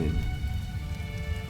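Steady, gentle rain in the video game Gris, an even, continuous wash of drops with a low rumble and faint tonal music underneath.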